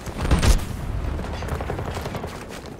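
Gunfire in Battlefield 2042, a dense burst of rapid shots with a heavy thump near the start, then continuing crackling fire at a steady level.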